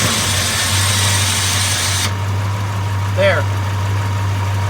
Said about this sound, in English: Get it to fire up, and let's try to get it to stay lit.